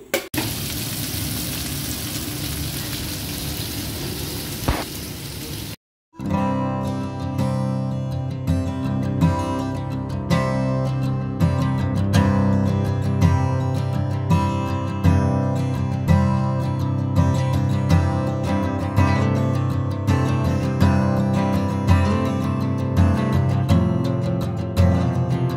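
Spice-marinated food fries in a pan with a steady, close sizzle and crackle. A brief gap comes early, then the frying carries on with light rhythmic clicks and stirring noises throughout.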